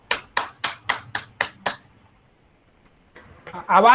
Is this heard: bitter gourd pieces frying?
no